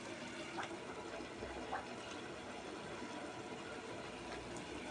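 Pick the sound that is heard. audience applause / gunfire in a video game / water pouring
water pouring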